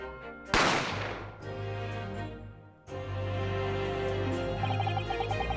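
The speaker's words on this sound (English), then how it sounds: "I didn't have time to think about where the sound of the gunshot had come from." A gunshot sound effect from The Great Ace Attorney video game: one sharp, loud crack with a decaying burst, set against a sustained musical score that drops out briefly and then resumes.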